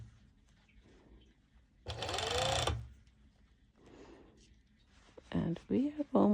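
A sewing machine stitches fabric for ruched-side shorts in one short, loud mechanical burst of about a second, with quiet around it and a voice speaking faintly before and more clearly after.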